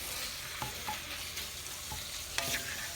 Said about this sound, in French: on mélange les carottes avec les petits oignons